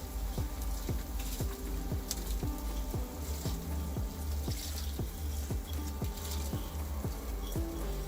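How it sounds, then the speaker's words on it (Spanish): Soaked rice added to a pan for red rice with prawns and mushrooms, a soft, steady patter and faint sizzle with regular little ticks, quiet and continuous. "Le añadimos el arroz que ha estado hidratado."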